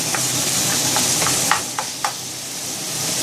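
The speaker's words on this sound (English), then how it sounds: "And I'll continue to fry that up." Room-temperature meat sizzling and frying in a hot pan, a steady crackling hiss with a few light scraping stirs, close up and without talk.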